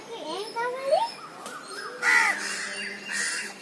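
A crow caws several times in short bursts, close and clear, while children and adults talk and chatter around it.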